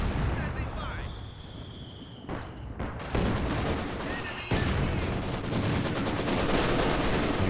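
Mortar wars in a Company of Heroes 2 two-versus-two match: dense, continuous in-game artillery and gunfire, with sharp blasts and crackling bursts layered into a loud, steady battle din.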